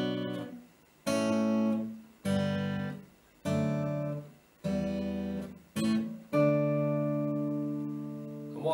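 Acoustic guitar plays the descending rundown from the end of a song's chorus: six ringing chords struck one after another, each left to sustain and decay before the next, close and clear with no voice.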